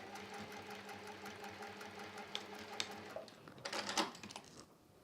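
A sewing machine top stitching a small felt booklet, a steady close mechanical whir with a rhythmic needle clatter that picks up briefly near the end before easing off.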